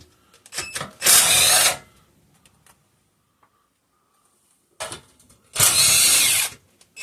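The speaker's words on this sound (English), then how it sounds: "Let's go ahead and get this recoil off of here." Recoil starter bolts come out of a 5hp Briggs and Stratton engine with gear reduction, as two loud bursts of a power driver whir with quiet pauses and small clicks between them.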